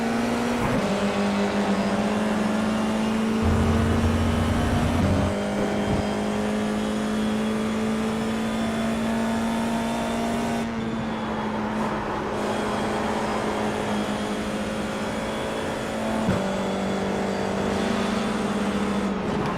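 FIA F4 race car engine in the iRacing sim during a last-lap race, a steady loud high-revving drone that shifts pitch with gear changes and throttle lifts, with no talk.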